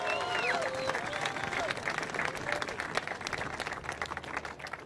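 Outdoor crowd applause and cheering for the runner-up at a junior world championship surf contest final, steady clapping with scattered whoops and whistles, moderately distant.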